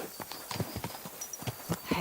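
Horse hooves clip-clop at a walking pace in Kingdom Come: Deliverance II, a steady series of close, distinct knocks with faint ambient noise around them.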